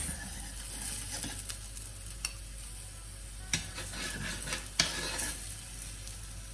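Oil sizzling around a thick chickpea flour pancake in a pan, a steady close fizz with a few brief clicks and scrapes from a utensil.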